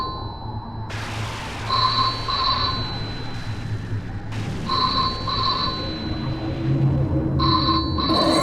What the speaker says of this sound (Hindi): लगता है फोन की घंटी बज रही है।